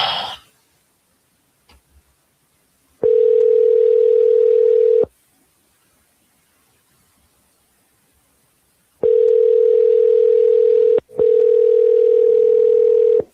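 A telephone ringback tone sounds while a call is placed to a 559 area code number, loud and steady in two-second pulses separated by silent gaps, with no voices.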